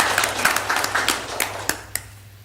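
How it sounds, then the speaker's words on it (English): Applause from the audience at a board of directors meeting, a short burst of scattered hand claps that thins out toward the end, with a few sharp individual claps standing out. "Give those all another round of applause."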